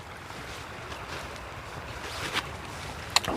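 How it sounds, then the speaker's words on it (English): Wind blowing at a riverside camp, a steady broadband rush with gusts swelling near the end and a few faint clicks, fairly quiet with no voices. "The wind won't make up its mind which way it wants to blow."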